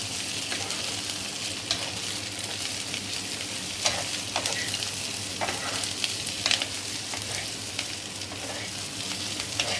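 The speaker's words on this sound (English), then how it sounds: "Let's toss it carefully." Chilli paneer with capsicum, onion and green chilies tossed in a hot pan, a dense continuous sizzle with soft scraping strokes of stirring, close and steady.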